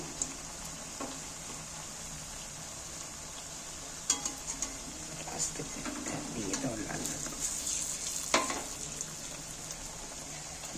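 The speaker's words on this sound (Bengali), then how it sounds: "এদিক ওদিক করে উল্টে পাল্টে ভেজে কালার কত সুন্দর লাল লাল হয়ে কালার হয়ে এসছে" Palm fritters deep-frying in oil and being turned over, making a faint steady bubbling sizzle with a few scraping clicks as they are flipped; close, quiet, with no talk.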